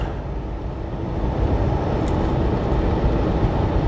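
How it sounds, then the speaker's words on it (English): A big train rumbles past a car on a drive from Fort Worth, Texas toward Dodge City, Kansas, a steady low roar that swells slightly and holds throughout with no voices. "That's a big freaking train, man."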